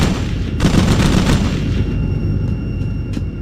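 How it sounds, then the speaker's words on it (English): Gunfire and a vehicle explosion as bullets destroy a Warthog in the Halo E3 beta demo video game, a dense burst of loud blasts and booms followed by fading rumble and a few scattered shots. "But only took like 8 bullets to blow up the Warthog."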